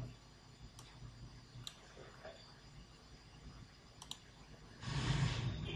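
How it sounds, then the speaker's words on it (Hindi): A computer mouse clicks sharply, faint and close, with a few isolated clicks including a quick pair, over low room hum and a brief rustle near the end, with no talking. "तो इस पर मैंने डबल क्लिक किया"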